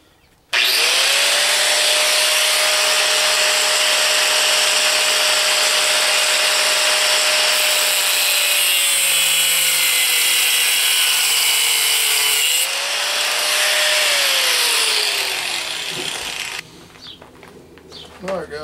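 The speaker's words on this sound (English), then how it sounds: "I'm going to start cutting these heads off these bolts. I'm just using a metal cut-off wheel in my grinder." An angle grinder with a metal cut-off wheel cuts the heads off bolts, giving a loud, sustained close-up whine and shriek that changes pitch as the wheel bites, then drops away near the end.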